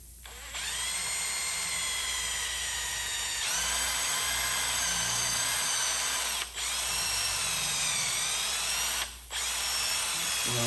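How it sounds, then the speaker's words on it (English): A power drill bores toothpick guide holes into a wooden guitar neck, a loud steady whine running alone in three long bursts with two brief pauses between them. "I'm gonna drill the toothpick holes"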